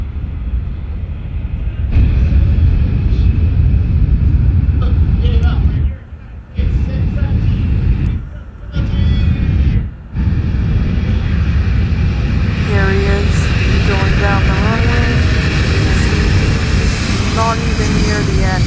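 A propeller airplane takes off at the Oshkosh AirVenture airshow, its engine drone loud and steady, broken by a few brief drops, with people talking over it.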